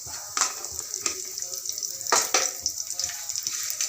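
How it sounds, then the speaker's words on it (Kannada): Curry leaves dropped into hot ghee and oil with mustard seeds for tempering bisi bele bath, giving a steady bright sizzle with sharp crackling pops around the half-second and two-second marks, heard close and alone. "ಕರಿಬೇವು ಒಗ್ಗರಣೆಗೆ ಹಾಕ್ತಾಯಿದ್ದೀನಿ."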